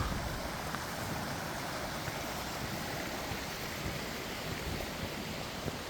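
River water flowing steadily beside a walking path through a gorge, a continuous broadband rush with no breaks, fairly close and even in level, with no voices.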